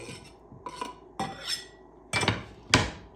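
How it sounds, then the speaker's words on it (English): Carrots and parsnips grated by hand on a metal grater, five or so separate scraping strokes in an uneven rhythm, close and fairly quiet. "We're going to grate some carrots and some parsnips here."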